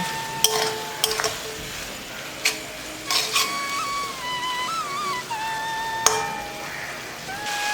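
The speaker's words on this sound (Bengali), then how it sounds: "এবারে সব মাছগুলোকেও সবজির সঙ্গে ভালো মতো মিশিয়ে নিয়ে আরও কিছুক্ষণ রান্না করে নেবো" Fried fish pieces being stirred into vegetables in a pan over a medium flame for a Bengali tinkata fish chorchori, giving scattered utensil clinks and scrapes over a low cooking hiss.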